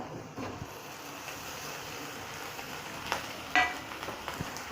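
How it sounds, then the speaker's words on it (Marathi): Chopped chicken liver frying in a pan, giving a low, steady sizzle close by with a few light clinks and stirring knocks near the end. "ह्याच्यामध्ये जे आपण कलेची घेतलेली आहे कट करून ती ह्याच्यामध्ये टाकायचे"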